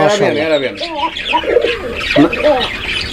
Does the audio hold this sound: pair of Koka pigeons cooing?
yes